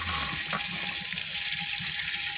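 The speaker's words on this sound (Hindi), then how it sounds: "ये देखिए घी हो गया गरम। अब इसमें हम डालेंगे मसाले" Spices crackle and sizzle steadily in hot ghee for moong dal, a close, even frying hiss that holds the whole time with no voices.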